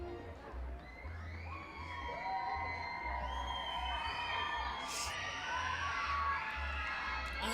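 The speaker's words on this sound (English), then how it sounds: "And the crowd is going wild now." A minor-league baseball crowd at a Reading Fightin Phils home game against the Richmond Flying Squirrels cheers and shouts steadily, with whoops and whistles rising over a broad, continuous roar.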